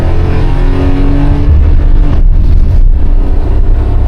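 A Daihatsu Mira with a 3-speed automatic revs up loudly and steadily as it accelerates on a straightaway, close by, with a brief shift dip midway.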